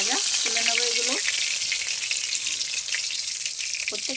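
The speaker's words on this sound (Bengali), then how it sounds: "সব মাছগুলো একই রকমভাবে ভেজে নিয়েছি, এগুলো হলেই হয়ে গেছে সব ভাজা" Laita fish fry in mustard oil, giving a steady, close, hissing sizzle with a couple of brief tonal sounds that may be a faint voice.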